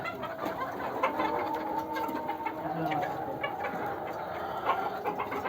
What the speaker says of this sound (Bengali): চলো আমরা মুরগি খাওন দেওয়া দেখা দিই